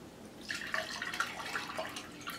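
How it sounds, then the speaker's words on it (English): Water poured into a glass for pink lemonade, a soft trickling, splashing stream running for a couple of seconds, quiet and close. "I pour water into the glass."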